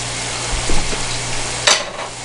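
Sausage fries in a pan with a steady, loud broadband sizzle, broken by a couple of brief stirring scrapes and one sharp clatter near the end.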